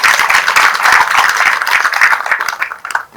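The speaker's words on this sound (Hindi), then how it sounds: "तालियां बजती रही।" A crowd applauds steadily at a Hindi Pakhwada event during a chief guest's poetry speech at NITTTR Bhopal, with dense, continuous clapping that stays loud and then thins out toward the end.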